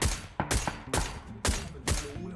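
Gunfire in the PUBG battle royale game comes as four or five sharp, loud bursts of rapid shots spaced about half a second apart, with no speech.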